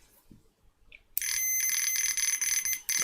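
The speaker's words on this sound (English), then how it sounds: "Let's just put this onto continuity test." A multimeter in continuity mode gives a sustained high-pitched beep through its test leads after a short quiet stretch, holding steady and cutting out briefly before the end, with no voices.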